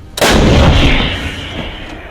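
A single loud artillery round fired by a crewed field gun, a sharp close blast followed by a long rumbling decay.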